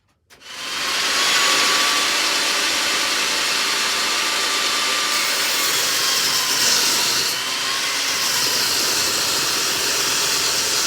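Pallet wood pieces being cut with a power saw, a steady loud whining drone that runs without a break for about ten seconds after a brief quiet start.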